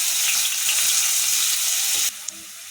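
Finely chopped large onions sizzle loudly in hot oil for a corn capsicum masala, a dense crackling hiss up close, with a brief stirring clink near the end.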